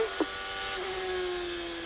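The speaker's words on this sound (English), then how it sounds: "Slow car exiting the pit, coming out on turn 3." A Champ Car race car pulls out of the pit lane during a 2006 Champ Car race, its engine a steady mid-distance drone with one short blip near the start.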